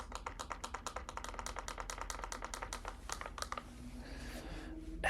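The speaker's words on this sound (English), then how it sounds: "The outside buttons sound like this." Plastic outer buttons on a handheld device pressed in a quick run of sharp, close clicks, dense for about three and a half seconds before trailing into a soft rustle.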